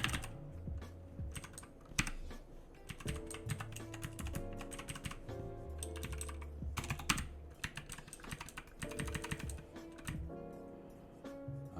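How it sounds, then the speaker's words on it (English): Rapid, steady typing on a computer keyboard during a coding session, a dense run of close, crisp key clicks with brief pauses between bursts and no talk. "I'm just slowly getting used to doing this on the keyboard."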